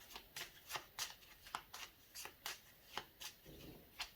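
Oracle cards shuffled by hand for a tarot reading, a faint, close series of crisp riffling snaps repeating at a steady, slightly uneven rhythm with no talking.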